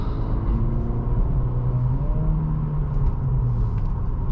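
A manual-transmission car's engine revs and drones low and loud from inside the vehicle, the pitch held high as the gear is shifted too late, steady throughout.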